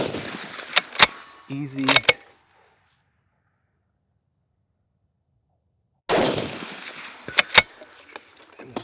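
Rifle shots from Eley Ultra Extreme Gen 2 rimfire ammunition on an outdoor range, several sharp cracks in the opening two seconds amid a brief spoken word, then silence, then more loud close reports and shooting noise.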